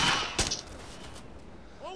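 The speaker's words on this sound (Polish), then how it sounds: "Granaty jakieś lecą." Arma 2 video game combat with grenade explosions: one sharp, heavy blast lands early, followed by a fading rumble and a few softer thumps.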